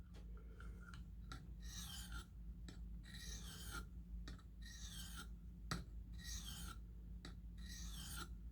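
Knife edge on a KME sharpener having its burr removed, a series of quiet rasping strokes in an even back-and-forth rhythm, close up, with no talking.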